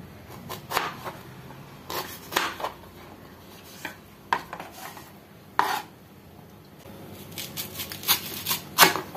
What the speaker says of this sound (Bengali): এবার আমগুলোকে পিস করে নেব।